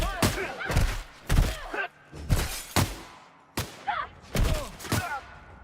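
Video game gunfire erupts in sharp, loud bursts, several separate volleys cracking close by, with shouting voices between some of the shots.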